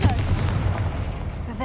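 A Confringo fire spell from Hogwarts Legacy bursts with a deep, booming blast that rolls and fades over about a second and a half, loud and close.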